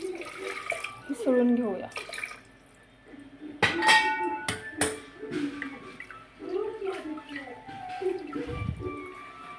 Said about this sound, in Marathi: आता थोडंसं पाणी घालूया आणि कुकर आपलं